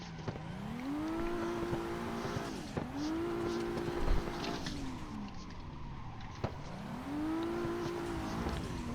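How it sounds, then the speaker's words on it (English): Car drifting with tire squeal: an engine revs in repeated rising and falling sweeps, about three long slides with brief dips between, loud and close throughout. "Yeah, I'm drifting."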